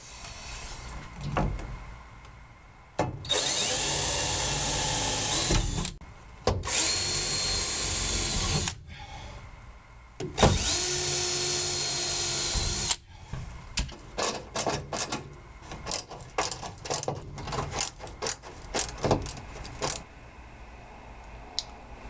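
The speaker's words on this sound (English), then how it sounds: "drill and screw." Power drill whirring in several bursts, each a few seconds long, followed by a rapid run of shorter, stuttering trigger pulses as screws are driven into hardboard for a 1964–67 commercial split-window headliner.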